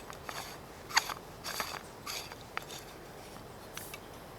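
A fuel pump being screwed into the fuel bottle of an Optimus Nova stove, giving a few soft, scattered clicks and scrapes of threads turning, quiet and close.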